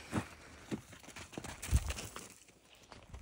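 A horse moves on the ground with a handful of soft, irregular hoof thuds, faint and somewhat distant, one heavier clop near the middle, over quiet outdoor background.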